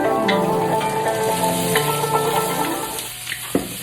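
Peppers and onions sizzle in oil in a stir-fry pan, a steady close crackling hiss with scattered pops, easing off near the end.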